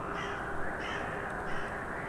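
A raven's croaking caw rings out over a steady, dense background noise, one or two harsh calls heard fairly loudly with no talk.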